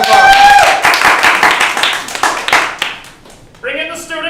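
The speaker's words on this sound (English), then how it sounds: "let's give her a big round of applause." Studio audience applause at a TV night event, a burst of dense clapping and cheering that fades after a few seconds before a voice starts speaking.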